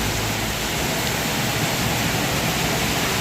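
Steady heavy rain pours outside a noodle stall in West Aceh, a dense, even hiss filling the scene throughout with no voices.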